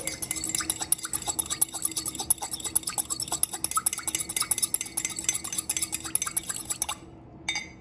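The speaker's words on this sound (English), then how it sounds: "Now whisk the dressing with a fork to combine." A fork whisks salad dressing for an artichoke tomato salad, giving a steady run of quick, light clinking and stirring taps against the bowl, close and clear, stopping just before the end.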